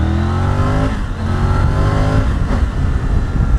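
Triumph Tiger 850 Sport motorcycle accelerating hard on a highway, a loud, steady engine note with rising harmonic sweeps as it pulls through the gears, continuous and close with no talking.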